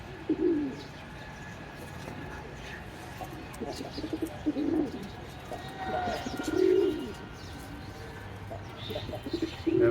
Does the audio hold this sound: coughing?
no